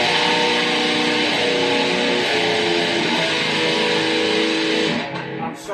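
A distorted electric guitar rings out a barred power chord in thrash metal style, sustained and loud for several seconds before it is choked off and fades.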